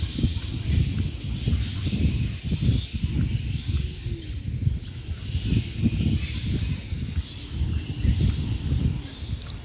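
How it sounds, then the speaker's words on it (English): Spectacled flying foxes in the trees of a Cairns roost camp before dawn, a dense, continuous wash of chattering, squabbling and rustling with a steady hiss throughout, no voices. "lots of activity with the spectacled flying foxes in the trees"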